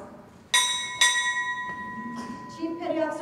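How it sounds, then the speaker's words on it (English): Two crisp strikes of a ship's bell in quick succession at a Navy chief pinning ceremony, the ringing tone lingering, followed by a person starting to talk. "Sound two bells."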